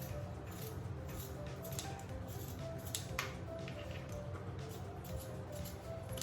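Scissors cut through fabric for a sewn face mask: soft, close snipping strokes under a steady background hum, fairly quiet and continuous.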